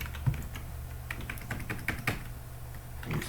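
Keys clack on a computer keyboard in a short burst of quick, light, irregular taps as a username is typed, close and quiet in a still room.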